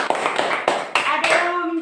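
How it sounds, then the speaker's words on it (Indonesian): A class of schoolchildren claps hands in a classroom, several sharp bursts of clapping in quick succession, close and fairly loud, with a voice briefly heard at the end. "Tepuk tangan dulu untuk Apriliani."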